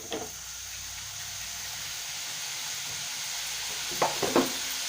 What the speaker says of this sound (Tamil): தக்காளி சேர்த்துட்டு நல்லா வதக்கிக்கணும்.